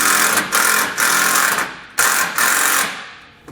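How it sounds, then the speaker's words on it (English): A power driver sinks a self-tapping screw into the steel frame rail of a 2017 Chevrolet truck, giving loud, close, rattling bursts in two main runs with short pauses, ending in a fading whir. "just self-tap our ground wire into our frame rail"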